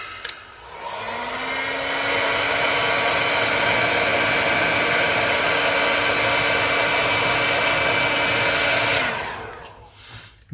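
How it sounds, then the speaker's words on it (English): A heat gun blows hot air onto heat shrink on a coax end, giving a loud, steady roaring whoosh with a faint whine that runs for about eight seconds before clicking off. "And then I'm going to get my heat gun"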